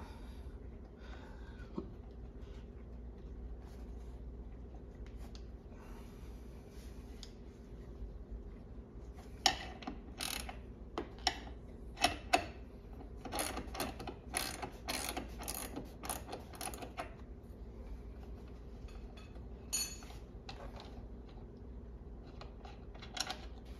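A hand ratchet loosens a seat bolt in a Porsche 981 GT4 during a roll bar install, giving bursts of quick metallic clicking with pauses between strokes, close up and with no one talking.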